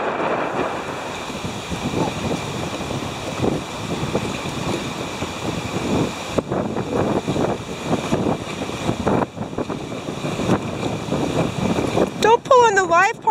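Strong wind buffets the microphone at a beach, a steady roaring rumble with ocean surf beneath it throughout, and a person speaks over the gusts; a short warbling whistle-like sound rises near the end.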